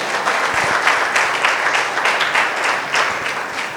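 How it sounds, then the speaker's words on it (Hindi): A church congregation claps and applauds for themselves, a dense, loud wash of many hands in an irregular rhythm, with a faint voice underneath. "एक बार ताली बजाओ अपने लिए"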